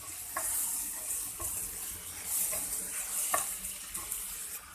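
A spoon stirs and scrapes tinda filling as it roasts gently in a clay handi over village cooking heat, with soft sizzling throughout and a few sharper scraping strokes, close and steady with no talking.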